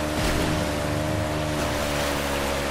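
A jet ski in Uncharted roars across the water, its engine droning loud and steady with splashing and wave wash, no talking.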